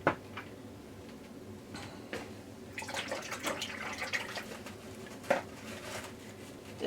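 A paintbrush is rinsed in water during a painted welcome-sign craft, giving faint swishing, light tapping and small splashes against a quiet room background.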